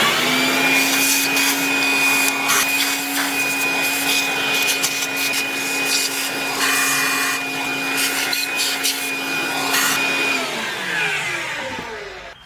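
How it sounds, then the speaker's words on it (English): A vacuum cleaner sucks up spilled oil in the engine bay of a Volvo S60, roaring steadily and loudly up close for about ten seconds with scraping rustles, then winding down. "we're going to go ahead and get a vacuum. Just kind of clean this up"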